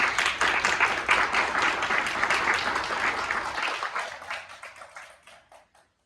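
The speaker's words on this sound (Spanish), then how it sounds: "Así que Fara, por favor, un aplauso para ella también." An audience gives a round of applause at a welcome session of a patient association gathering in Chile. The dense, steady clapping is loud at first, then thins out and fades to scattered claps by the end.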